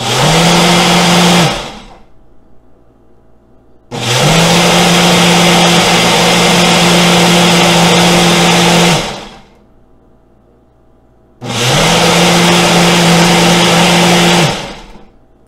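Ninja Intelli-Sense Duo blender motor running loud and close in three long bursts separated by short pauses, each burst starting and stopping abruptly like pulsed operation.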